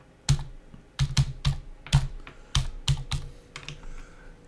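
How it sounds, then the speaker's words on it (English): Rapid irregular clicks of fingers typing on a computer keyboard, a close burst of keystrokes with short pauses between groups, alone with no talking. "let's type it in."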